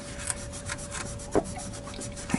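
Rubbing and rasping strokes of roughing up a smooth steel surface before painting, a steady scratchy friction with a few sharper scrapes, fairly faint and close, with no talk.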